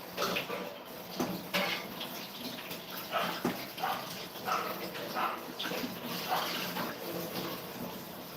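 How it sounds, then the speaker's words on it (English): Dogs bark in the background of a home kitchen while sausage is drained, the barks repeating irregularly and mixing with running water and clattering pots. "there's my doggies barking"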